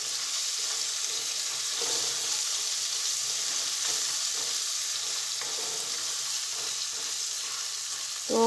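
Garlic and green chili sautéing in hot oil for a dal fry, a steady close sizzle running without a break, with a few soft stirring scrapes and a louder clatter at the very end.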